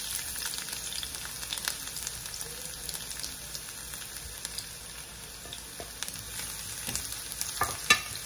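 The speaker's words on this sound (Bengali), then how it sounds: "এখন আমি দিয়ে দেবো রসুন কুচি" Chopped garlic and dried red chillies frying in hot oil for spiced greens, a steady even sizzle with occasional sharper pops and stirring scrapes near the end, no voices.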